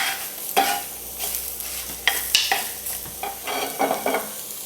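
Shiitake mushrooms tossed in a hot pan, close and alone, with a run of sharp scraping and shaking bursts over a soft sizzle.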